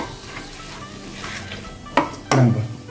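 Tomatoes fry on high flame for chicken biryani, with a background sizzle and two sharp spatula scrapes against the pan near the end.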